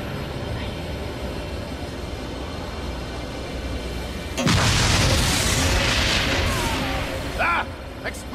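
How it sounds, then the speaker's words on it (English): Explosions blast out in the Agents of Mayhem video game, a loud broadband boom erupting midway over a droning background and rumbling on with crackling debris, followed by a couple of sharper bursts near the end. "Ah! Explosions!"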